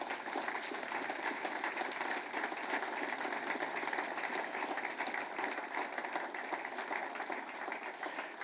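Church congregation clapping at a service, a dense steady wash of applause that holds at a fairly faint, even level for the whole stretch with no break.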